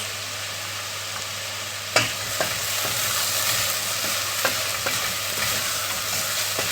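Potato filling with chili flakes, salt and spices sautéing in a pan for hand-rolled börek, a loud continuous sizzle with repeated spoon scrapes and taps throughout, no voices.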